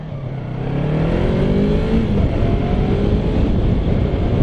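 Loud, close vehicle engines rise in pitch and sweep past on a road in a swelling whoosh, heard while waiting on a motorcycle, with no talking.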